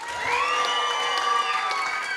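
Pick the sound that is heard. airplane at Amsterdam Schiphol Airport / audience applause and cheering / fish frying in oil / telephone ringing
audience applause and cheering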